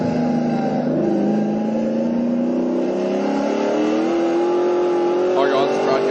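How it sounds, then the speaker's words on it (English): A TA2 Chevy Camaro muscle car with a loud V8 engine roars through a hot lap at Queensland Raceway, revving steadily higher in pitch, under continuous driver commentary. "Up to 4th gear on the line, check the brakes, down to 3rd gear, big slide through turn 1"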